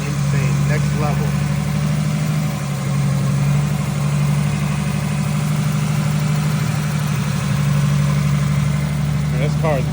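Engine of a 1000hp all-wheel-drive build car running at a steady, loud, rumbling idle close by, with voices talking over it.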